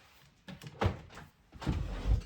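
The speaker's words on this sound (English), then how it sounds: "Now I can't even get my drawer open. Something's stuck in it." A stuck dresser drawer is tugged open in a few short, scraping jerks, with a couple of louder knocking thuds toward the end, heard nearby in a quiet room.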